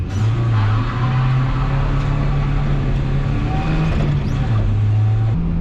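A 1967 Toyota Stout truck with a small 87-horsepower 22RE four-cylinder engine drives along, its engine droning steadily and loudly with slight shifts in pitch, a continuous close-up motor hum with road noise and no talking.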